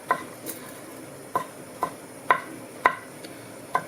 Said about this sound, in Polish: Teraz pokroję sobie w drobną kostkę